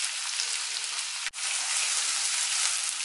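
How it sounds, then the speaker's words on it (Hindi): Gooseberry pickle mixture roasting in a pan, making a steady, close, hissing sizzle that runs throughout with one brief dip, and no talking. "2-3 मिनट इसे हम भून लेंगे अच्छी तरह।"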